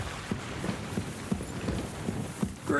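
Horse hooves clip-clop at a steady walking rhythm in Kingdom Come Deliverance 2, about eight even, moderately loud strikes over a soft ambient background.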